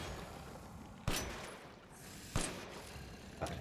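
Gunshots in the video game Resident Evil 8, three sharp single shots spaced roughly a second apart, each with a short decaying tail over quiet background ambience.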